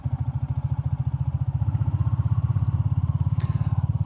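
A Royal Enfield Classic 350 motorcycle riding on a gravel road gives a loud, steady single-cylinder thump with a fast, even pulse and a low rumbling tone. Engine noise dominates throughout.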